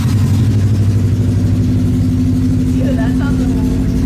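Polaris RS1 engine with a Stage 2 tune and aftermarket exhaust idling with a deep, steady, rumbling burble, loud and close throughout, while people talk over it.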